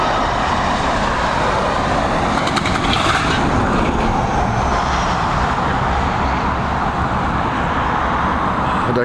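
An airliner comes in to land at Dublin Airport, a loud, steady broadband roar of engines and rushing air that holds at a constant level with no voices.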